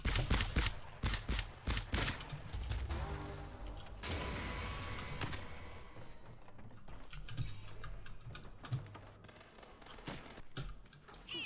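Rapid gunfire in the video game Scavengers: dense bursts of sharp shots, heavy at the start and then sporadic, over mechanical clatter and game ambience.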